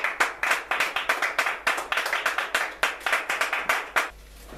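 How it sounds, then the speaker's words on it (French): A church congregation claps rhythmically together in steady, fast repeated bursts, fairly loud and close, before the clapping stops abruptly near the end and leaves a quiet room. "Acclamons encore."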